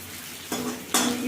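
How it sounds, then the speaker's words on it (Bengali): Onions frying in a pan for a Bengali yardlong bean chochchori, heard as a close, steady sizzle that swells in two sudden steps as stirring begins and grows louder. "পেঁয়াজটা একটু ভালো করে ভেজে নেব।"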